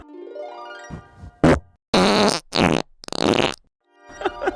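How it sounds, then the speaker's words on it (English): Recorded farts played back, several loud, separate blasts of varying length and pitch with short silences between, from long wet rumbles to brief squeaky bursts, ending in a quieter sputter. "could bring both farts back, just right now, just so we could hear them again"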